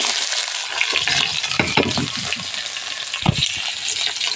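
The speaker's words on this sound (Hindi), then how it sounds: "तो अभी हम इसमें डालते हैं प्याज।" Onions crackling in hot oil in a kadai, a bright continuous sizzle with a few spatula scrapes and thuds against the pan, loud and close with no voices.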